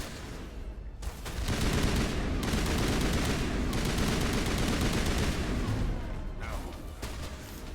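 Shotgun fire in Mass Effect Legendary Edition, a sustained volley of booming blasts lasting several seconds after a brief quieter start, fading toward the end.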